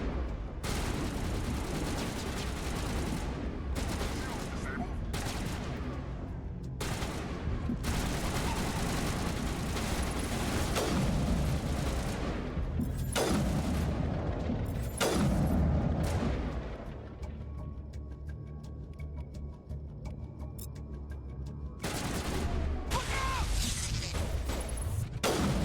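Turrets firing in Mass Effect Legendary Edition: heavy booming blasts and crackling volleys burst repeatedly, loud and close, with brief quieter gaps between barrages and no talking.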